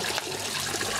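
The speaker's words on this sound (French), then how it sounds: "Ça, c'est notre robinet d'eau." Water gushes from a makeshift tap hooked up to the city supply in a Marseille housing estate, a close, steady rushing splash with no speech.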